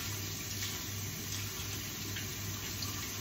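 Tap water runs steadily into a sink while black beans are rinsed, giving a continuous, even rush at moderate level with no speech.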